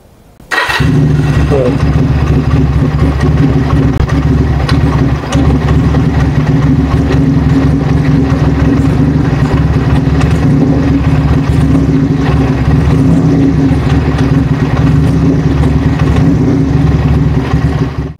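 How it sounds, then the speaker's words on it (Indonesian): A Benelli Patagonian 250 with a Hard Rock aftermarket exhaust fires up and then runs loud and close, holding a deep, steady, throbbing engine note with someone talking over it. "Yang original aja suaranya kayak moge, apalagi yang sudah pakai knalpot dari Hard Rock kan."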